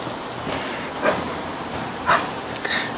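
A dog gives two or three soft, brief whimpering yelps at intervals over a quiet background.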